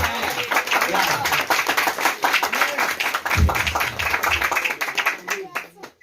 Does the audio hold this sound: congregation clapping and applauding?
yes